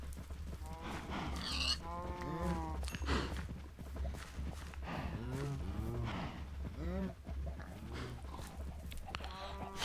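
Several Minecraft cows moo in a loose, overlapping series, some nearer and louder, others softer, with faint shuffling steps and a low steady hum underneath.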